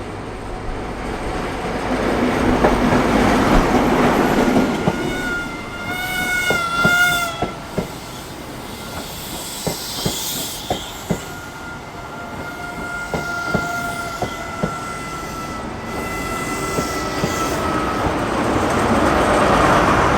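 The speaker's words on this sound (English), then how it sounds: "the motive power for this leg of the journey turning out to be an HST Castle set" An HST Castle set high-speed train travels toward Penzance in West Cornwall, a loud rolling rumble with a sustained horn tone in the middle, then rhythmic clicks of wheels over rail joints before the roar swells again.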